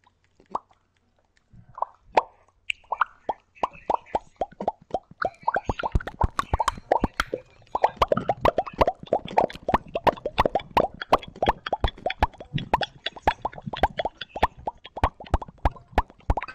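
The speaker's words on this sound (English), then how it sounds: "Popping sounds." Rapid popping bursts from Rainbow Six Siege gameplay start sparse, then build into a dense, crackling stream of sharp pops that continues steadily and fairly close.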